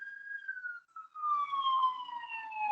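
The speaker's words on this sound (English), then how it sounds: "Sorry about the ambulance." An ambulance siren wails outside, a single sweeping tone that falls in pitch as it passes, clear and moderately loud with no talking over it.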